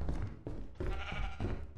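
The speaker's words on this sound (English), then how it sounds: "another sheep!" A sheep in the video game Lethal Company, played with Minecraft content, gives three close, clear bleats in quick succession.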